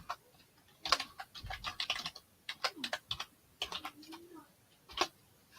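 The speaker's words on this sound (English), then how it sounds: "I'm going to type in the name." Keys clatter as a name is typed on a computer keyboard in a live auction of vintage rhinestone jewelry, a quick irregular burst of clicks close to the mic, with a brief pitched voice sliding in between.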